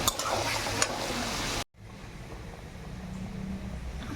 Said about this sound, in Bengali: তারপরে এক এক করে সমস্ত সবজিগুলো দিয়ে দিয়েছি। এবার এটাকে সুন্দর করে নরম করে ভেজে নেব।